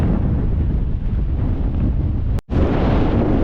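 Strong wind at an exposed wild camp batters the microphone in a loud, continuous roaring buffet, broken only by a brief dropout before it resumes.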